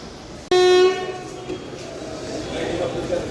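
A Tirupati–Kakinada Express 17249 with LHB coaches sounds a single long, loud horn blast while departing Powerpet station, followed by a low rumble of the moving train building under faint background noise.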